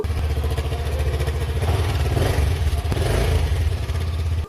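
A BSA Gold Star 650 motorcycle's 650cc single-cylinder liquid-cooled engine runs close by with a steady, throbbing rumble that holds constant and cuts off abruptly at the end.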